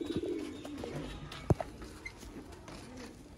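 Sialkoti pigeons in a loft give soft low coos, with a sharp flutter or tap in the middle and faint scuffling around them, close by and with no talking.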